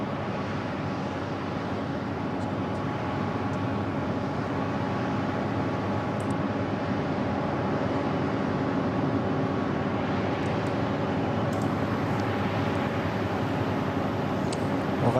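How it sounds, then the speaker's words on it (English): A HAL Tejas jet holding short of the runway at the Bahrain Air Show 2016, heard as a steady, distant engine drone with light wind noise and no clear change in pitch. "So the Tejas is just holding short of the runway."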